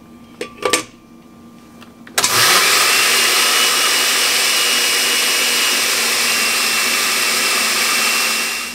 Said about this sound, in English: I'm gonna throw this in my blender and I'm gonna blend it